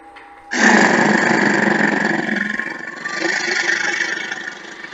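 Engines of a Lego Ninjago ship switch on with a sudden loud mechanical whir after a brief quiet start, then hold as a steady droning hum that wavers slightly.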